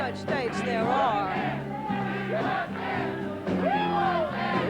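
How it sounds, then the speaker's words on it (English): An election night rally crowd cheers and yells steadily, loud and close, with shouts rising above the roar and a voice speaking over the noise. "they can't hear me over the crowd"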